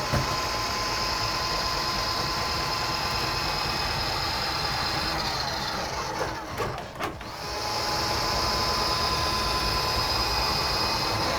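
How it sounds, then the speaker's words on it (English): A drain snake machine spins its cable down a clogged bathroom sink drain, giving a loud, steady motor whir that dips briefly in the middle and then picks up again. "We start our cable, start spinning our machine."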